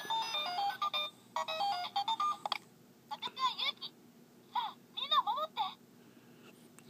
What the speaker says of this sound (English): if you let it sit for a while, there's somebody calling me on the phone